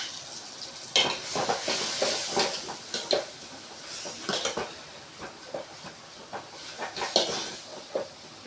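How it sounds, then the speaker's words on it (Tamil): Red chili powder, home-ground chili powder and spices sauté in a pan for pudikarunai puli kulambu, with a close, steady sizzle and repeated scraping strokes of a spoon stirring in an irregular rhythm. "இப்போ எல்லாத்தையும் சேர்த்து நல்லா வதக்கிக்கலாம்."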